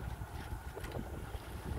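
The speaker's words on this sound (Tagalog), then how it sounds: "malakas po yung hangin ngayon" Steady strong coastal wind rushing across the microphone by a bridge, a broad constant roar with low rumbling buffets, no voices.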